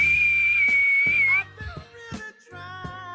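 A coach's whistle gives one long, steady, shrill blast lasting over a second. It sounds close and loud, and low talk and chatter in a radio studio follow it.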